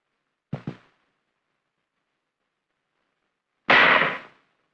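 Mortar rounds are fired in a 1960s Vietnam military setting. A pair of quick sharp reports sounds first, followed after a pause by one louder, broader blast that fades out over about half a second.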